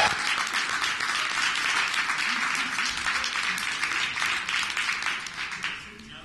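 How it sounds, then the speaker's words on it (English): Steady applause from an audience at a game developers' meetup, dense clapping throughout that tapers off near the end, with some voices mixed in. "let's give a nice, extra loud round of applause"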